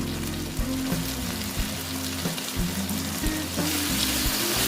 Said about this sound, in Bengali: আমি আলুটাকে ভালো মতন ভেজে নিচ্ছি যেন ফিফটি পার্সেন্ট সেদ্ধ হয়ে যায়